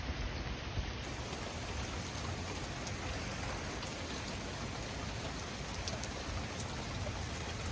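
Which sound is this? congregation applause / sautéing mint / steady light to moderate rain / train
steady light to moderate rain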